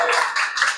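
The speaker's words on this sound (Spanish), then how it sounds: "Los aplausos de los presentes para él" Applause from people attending a Semana Santa history talk in Girardota, Antioquia, a brief burst of clapping from a small gathering, fairly loud and close, with no talking.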